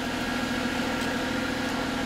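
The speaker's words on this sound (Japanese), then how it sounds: "エンジン音の音が、静かなような気もしますね" Engine of a low-mileage Daihatsu Every Join DA62V van idling quietly, a steady even hum with a faint low drone, unbroken and with no voices over it.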